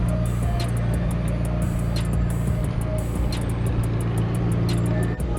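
A McLaren supercar on a busy city street in Yorkville, its steady engine drone running loud and continuous through the whole stretch amid surrounding traffic, with no voices.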